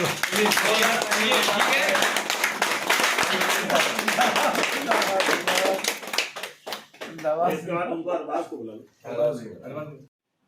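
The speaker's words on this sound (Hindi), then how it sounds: "तालियां ऐसी होनी चाहिए।" Rhythmic audience clapping, fairly loud and continuous, fills the first six seconds at an organisation's appointment ceremony in Ghaziabad, then fades as a voice speaks over a quieter hall.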